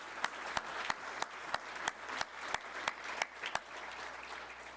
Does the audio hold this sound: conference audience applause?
yes